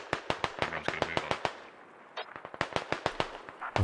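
Sharp gunshots crack in quick succession in a military shooter game, with dense irregular volleys that pause briefly in the middle before the rapid fire resumes, loud and close.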